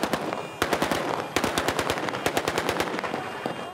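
Rapid bursts of celebratory automatic gunfire ring out in Tripoli, Libya, loud and close, with repeated volleys of sharp cracks overlapping into a dense, rattling barrage.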